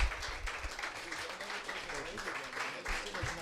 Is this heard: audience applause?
yes